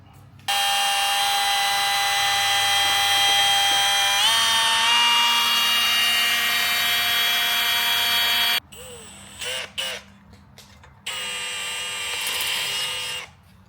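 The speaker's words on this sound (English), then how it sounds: "do a little prick punch. Grab a fresh DeWalt bit." A power drill with a fresh DeWalt bit bores into a stainless steel diesel exhaust pipe, giving a loud sustained high whine for several seconds, then short stop-start bursts and a final longer run of drilling.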